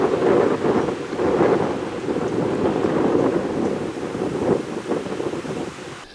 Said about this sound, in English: the wind is a steady 25 feet per second, up to gusts with 45 to 50 feet per second, so it's quite windy